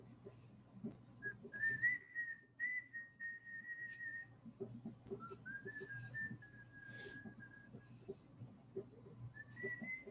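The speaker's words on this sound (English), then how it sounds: "Who's whistling?" Someone whistles a wandering, unhurried tune in a quiet room, faint and slightly distant, with sustained notes and short gaps between phrases.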